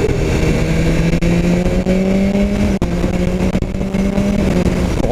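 A BMW S1000 R motorcycle engine revs hard and steadily close up during a test ride, its rising pitch holding strong for several seconds, with a couple of brief dips as gears change.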